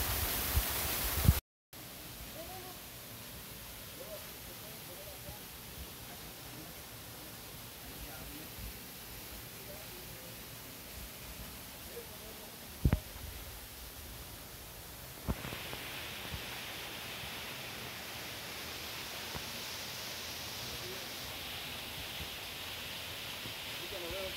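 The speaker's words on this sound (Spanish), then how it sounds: "Seguimos viendo parte del río que nos va a conducir a la Poza Verde." A river flows along the route to Poza Verde in Xochitlán de Vicente Suárez, a steady broadband rushing wash with a few faint clicks and a brighter, louder hiss taking over partway through.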